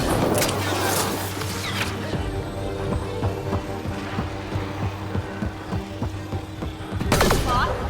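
Gunfire from the video game Mass Effect Andromeda: rapid bursts of shots and mechanical clicks, loud at the start and again near the end, with quieter rattling between and a voice speaking at times.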